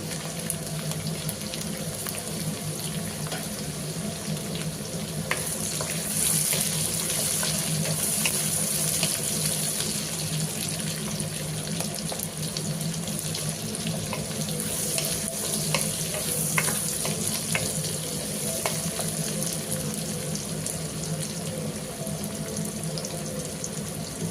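Green chillies and chopped onion frying in a pan, giving a steady, even sizzle that holds at a constant level throughout with no talking.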